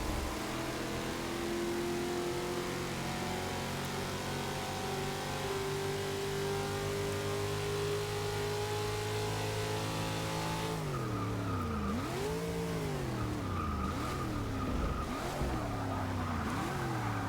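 A stock American muscle car in Forza Motorsport 6 drones loudly at a steady engine pitch, then revs rise and fall in waves as the tires skid and squeal, all continuous and close with no talking.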